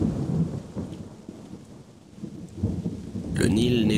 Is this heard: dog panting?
no